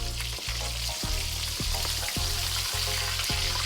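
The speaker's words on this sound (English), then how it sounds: "So the fish has nicely fried." Fish frying in hot oil gives a loud, continuous sizzle and bubbling, with regular soft thumps through it, heard up close and with no talk.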